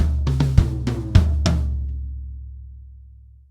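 A drum kit fill in bar 39 of a piece runs around the toms from high to mid to floor tom in quick eighth-note hits, then a lower stroke rings out and slowly decays, close and alone.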